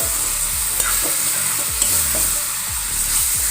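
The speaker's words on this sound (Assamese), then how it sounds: "মই মটনখিনি আধা নিসিজা হোৱালৈকে ভাজিলো" Mutton seasoned with salt and turmeric sizzles steadily in a pan for a curd-based Assamese curry, with a spatula scraping and stirring it in repeated strokes, close and fairly loud.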